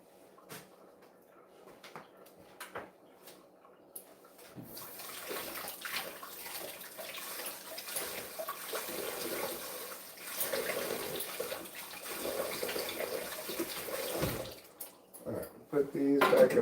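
Kitchen tap water runs steadily for rinsing, rising after a few seconds of light clatter and knocks, with a broad hiss that continues to the end and a voice speaking now and then.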